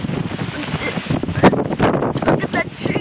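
Strong gusty wind, tornado-like, buffets the microphone in rough bursts and roars, with a brief surge partway through and a person's voice audible in the background.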